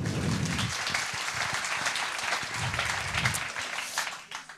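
An audience at a biology talk claps briefly, a dense steady patter of many hands that thins out toward the end.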